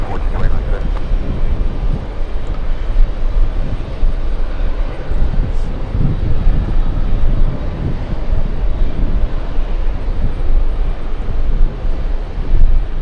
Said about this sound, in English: Air India is definitely heading to the runway for takeoff, lining up